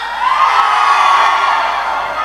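A large crowd of vocational school students at a Cepu school event shouts and cheers together in a loud, sustained roar that fills the space.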